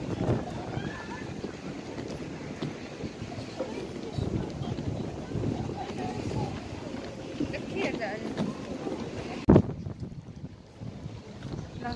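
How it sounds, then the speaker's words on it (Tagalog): Strong wind at La Mer beach in Dubai roars steadily into the microphone, rumbling and buffeting throughout, with a brief louder gust near the end. "Lakas ng hangin. Mahangin siya."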